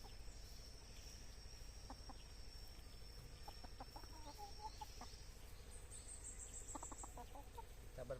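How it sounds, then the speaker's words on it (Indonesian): Chickens clucking faintly in the background of an outdoor meal, with a few soft scattered clucks and a brief higher call over a steady low ambient hum. "Ada ayam-ayamnya."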